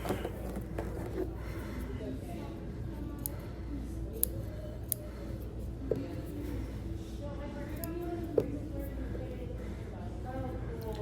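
Scissors trim thread tails while sewing a continuous lap placket. A handful of soft, separate snips and clicks sit over a low, steady background hum.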